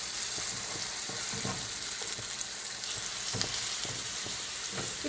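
Pineapple slices roasting in butter on a hot tava, giving a steady close sizzle and frying crackle with occasional scraping and flipping taps, no voices.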